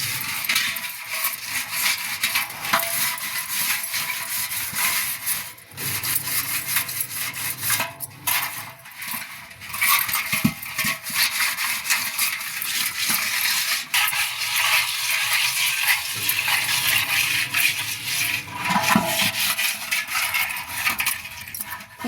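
Tamarind being rubbed over a blackened metal item to clean it, a continuous gritty scrubbing with occasional light metallic clinks, close and steady, no one speaking.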